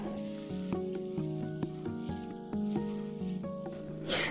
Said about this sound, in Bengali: এখন এটাকে আমি হাই ফ্লেমে 1 মিনিটের মতো স্টার ফ্রাই করে নিচ্ছি।